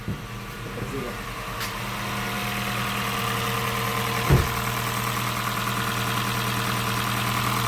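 A Toyota Prius 30 engine idles steadily after fuel injector repair, with a low, even hum throughout and a brief knock or thump partway through.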